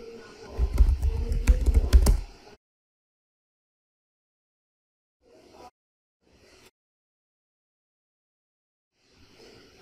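A password is typed on a computer keyboard while installing Windows Server 2025 in VirtualBox: a quick burst of close keystrokes for about two seconds, then near silence broken by a few faint, isolated clicks.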